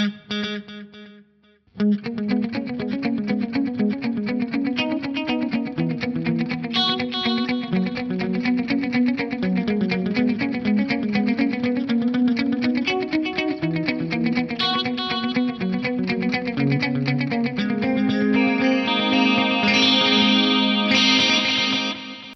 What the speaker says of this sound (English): Now we've got this amazing sounding detuned stereo delay